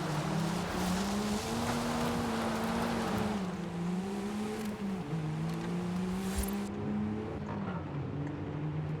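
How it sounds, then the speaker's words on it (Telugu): Land Rover Defenders race off-road, their engines droning loud and close in a continuous roar whose pitch rises and dips as they rev and shift. "Defender to defender race off roading."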